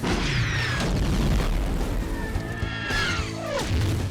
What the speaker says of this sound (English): One of the stunts that they did was to blow up a bunch of old gasoline.